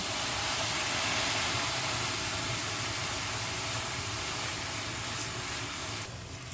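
White wine is poured into toasted risotto rice in a hot pan, and it gives off a steady, loud sizzle and hiss that holds for several seconds and then eases a little near the end.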